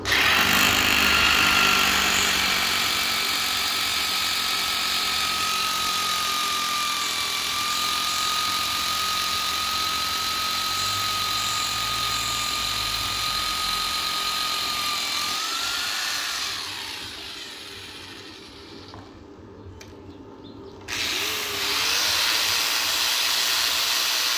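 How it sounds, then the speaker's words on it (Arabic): A rotary hammer and an angle grinder run together off a car battery inverter, a loud steady motor whine with a wavering high tone and grinding hiss that drops briefly near the end before resuming. "بعد ما أجربه هجرب الهيلتي والصاروخ الاتنين"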